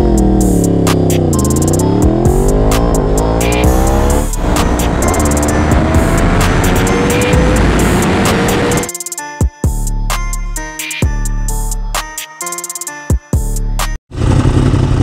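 A 2015 Yamaha R1 sport motorcycle revving hard, with rising and falling engine pitch and then a run of sharp, rapid throttle blips with short pauses, loud and close.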